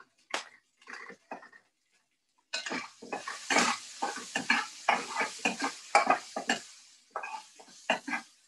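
A spatula scrapes and clatters rhythmically against a wok as garlic, ginger and vegetables are stirred constantly, quick bursts of metallic scraping after a brief pause, close and loud.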